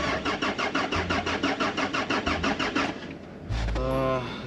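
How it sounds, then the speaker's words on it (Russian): A cold car engine cranks with a rapid, rhythmic starter whir for about three seconds, pauses, then catches with a low thump and settles into a rough idle, with voices talking over it. "Перший запуск холодного автомобиля."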